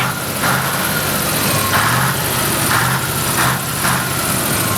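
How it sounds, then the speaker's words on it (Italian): The diesel engine of a Fiat Turbostar 190-42 truck rumbles steadily nearby, a loud continuous idle with faint periodic surges. "facci sentire un po' di rombo a questo punto"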